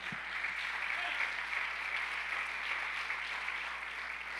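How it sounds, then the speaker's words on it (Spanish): A church congregation applauds during a sermon, a steady wash of clapping that sounds somewhat distant and even, continuing without pause and with no voices over it. "dale un fuerte aplauso a nuestro Dios en su casa"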